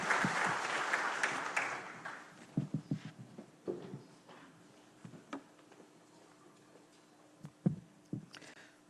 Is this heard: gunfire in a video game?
no